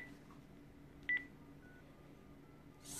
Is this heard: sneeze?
no